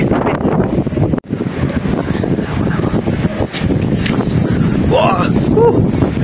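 Strong wind buffets the microphone with a steady roar while heavy rain pours on a farm in cold weather, loud and continuous with a brief dropout near the start.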